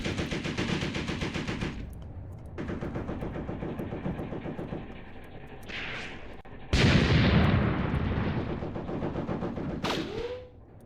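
Machine gun turret firing long rapid bursts in a WWII tank warfare game set at Tunisia's Chouigui Pass in 1943, loud close rattling volleys broken by short pauses, with a heavy blast and engine rumble.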